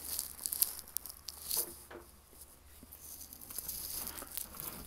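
A putty knife pries old scenery off a model railroad layout, producing close, faint tearing and crinkling scrapes in short irregular bursts against a quiet background hum.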